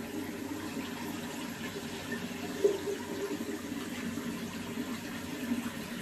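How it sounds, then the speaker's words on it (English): Water runs steadily into a sink while a makeup brush is cleaned, a constant soft rushing close by with one small knock partway through. "So I'm cleaning a makeup brush, does that count?"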